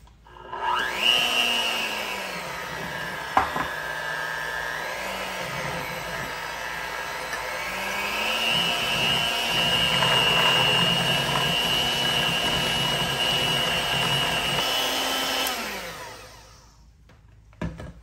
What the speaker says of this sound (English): We're gonna take a mixer, and you could do this in a stand as well.